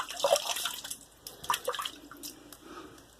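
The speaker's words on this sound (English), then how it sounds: "So, I'm going to re-wet my face yet again." Water splashes in short, close bursts as hands scoop it onto a face during a wet shave, with brief drips and quiet pauses between splashes.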